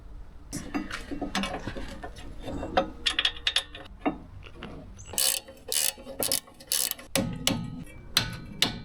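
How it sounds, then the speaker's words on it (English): A Proxxon torque wrench tightens Mercedes brake caliper pins with a 16 mm socket, giving rapid ratcheting clicks and metallic scrapes in uneven bursts. The sound is close and fairly quiet, with no talk. "Barely trusty Proxon torque wrench."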